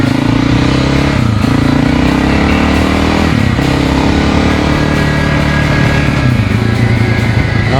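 A Honda XR600R motorcycle fitted with a 12-tooth front sprocket rides in fourth gear, its single-cylinder engine droning loud and steady throughout, with brief dips in pitch between throttle changes.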